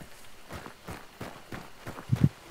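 Footsteps in the video game Hunt: Showdown, a series of soft, evenly spaced steps at a steady walking or running pace, moderately close, with two heavier thuds near the end and no talking.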